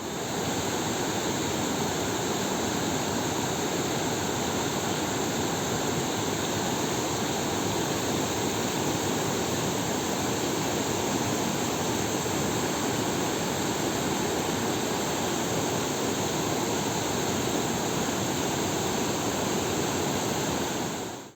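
Floodwater rushes loud and continuous after heavy rains, a steady broadband roar of churning water close by that holds unbroken for the whole stretch with no voices.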